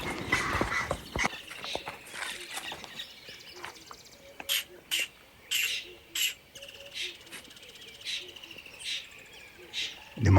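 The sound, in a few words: man imitating a bird call and a bird answering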